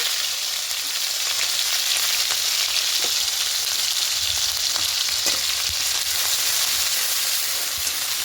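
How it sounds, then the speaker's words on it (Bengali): Crushed onion hits hot oil with whole spices (cinnamon, cardamom, cloves) for a Bengali doi katla fish curry, a loud steady close sizzle and crackle with faint stirring scrapes throughout. "এবার এখানে দেব পেঁয়াজ থেতো করাটা দেবো"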